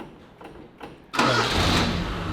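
An old Gemini car's engine cranks, then catches and starts at about 1.1 seconds, settling into a loud, steady rumble after quiet rustling.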